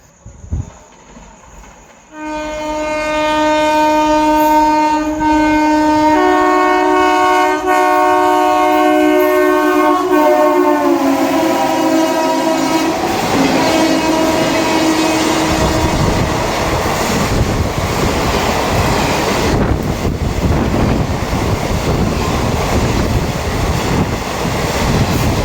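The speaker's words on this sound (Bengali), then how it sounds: "আসছে সামনে দিয়ে আলিপুরদুয়ার কলকাতা পর্যন্ত চলা টিওডি স্পেশাল এক্সপ্রেস ট্রেন, আর এখন স্কিপ করতে চলেছে বীরনগর রেল স্টেশন।" A TOD Special Express train on the Alipurduar–Kolkata run sounds a long, loud multi-tone horn as it approaches and skips Birnagar railway station at night, followed by a building roar of wheels and carriages rushing past close by, with crickets faintly underneath.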